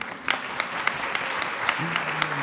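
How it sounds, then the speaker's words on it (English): Audience at a science scholars meeting giving a brief round of applause, soft and fairly distant, with a low tone and murmuring voices underneath. "So give yourselves applause"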